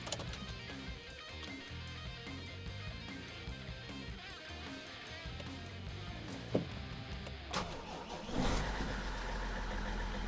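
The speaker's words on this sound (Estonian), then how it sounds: "nüüd paneme starti peale, annab ilusti õiged voltid kätte ja lähme paneme auto käima" Car engine turning over and catching after a battery jump start, a dense low mechanical rumble with a sharp knock near the end as the engine settles into a steady run.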